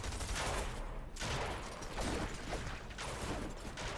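Sustained bursts of automatic gunfire spraying in a Fortnite competitive match, dense and continuous with brief lulls, loud and close with no voices.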